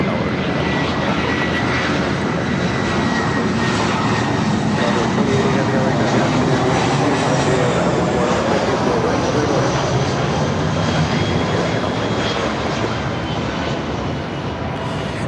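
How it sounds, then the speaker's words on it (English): A Delta Airlines Airbus A319 arriving at LAX from Dallas Fort Worth produces a continuous, loud jet engine roar that holds steady throughout, with a voice speaking faintly beneath it. "This is Delta Airlines 948 coming in from Dallas Fort Worth on the A319."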